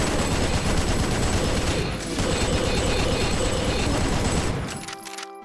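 Dense, sustained rapid gunfire from a chaingunner in the video game Doom, continuous loud bursts with a brief dip near the middle before trailing off at the end.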